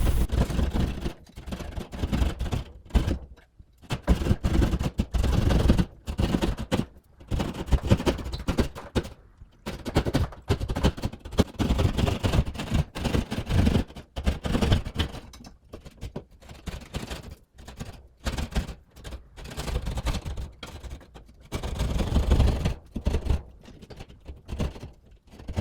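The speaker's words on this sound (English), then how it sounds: "cut out a hole in the ceiling using a drywall saw" A hand drywall saw cuts a hole in a ceiling for an electrical box, producing steady rapid rasping strokes that continue close and unbroken throughout.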